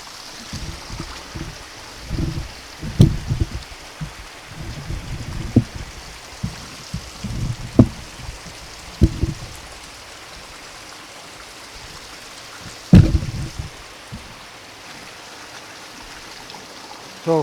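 Shallow stream of water flowing near a waterfall in snowy conditions, a soft continuous rushing with irregular close splashes and sloshing bursts, as if disturbed by wading boots, fairly loud and near with no voices.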